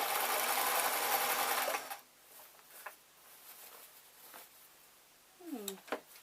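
A sewing machine runs steadily for about two seconds, stitching elastic onto an old-fashioned mop hat, then stops, leaving faint handling noises and a brief cat-like squeak near the end.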